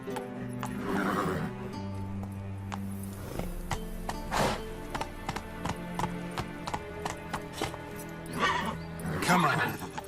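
Hooves of Roach, a horse in The Witcher 3 video game, clip-clop at a steady galloping rhythm under a music score, with a whinny and other brief game sounds around it.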